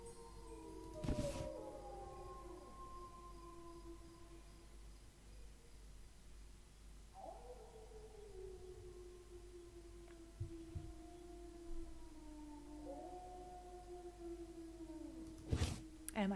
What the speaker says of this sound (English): It is wolves. Look at that.